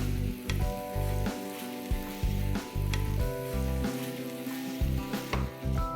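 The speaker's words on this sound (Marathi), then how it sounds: "पावभाजीचं मॅशर असतं ते घ्यायचंय, त्याने थोडंसं मॅश करून घ्यायचंय खिमा" Chicken kheema is mashed with a pav bhaji masher in a sizzling pan, giving rhythmic thumps and presses about once a second over a continuous hot sizzle, close and clear.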